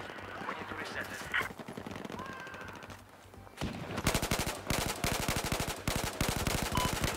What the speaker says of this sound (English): So I'm just trying to land a few long range shots now